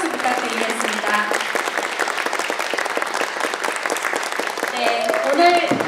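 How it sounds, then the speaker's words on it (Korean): An audience applauds after a traditional Korean percussion and yanggeum performance at the National Theater's Yeowoorak festival, with sustained, lively clapping throughout and a voice speaking over it toward the end. "멋진 연주를 보여주신 윤은아 씨와 연주자분들께 큰 박수 부탁드리겠습니다"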